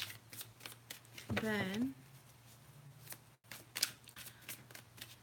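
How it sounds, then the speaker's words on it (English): Tarot message cards are shuffled by hand in a quick riffling burst, followed by soft card handling, while a person speaks quietly nearby. "Let's pull out one message card."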